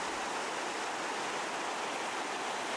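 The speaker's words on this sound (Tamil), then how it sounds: "தண்ணி வெளியே போயிட்டுருக்கு, நீங்கள் பார்க்கலாம்." Floodwater pours steadily out of a lake after heavy rain, a dense continuous rushing roar with no break, close and loud.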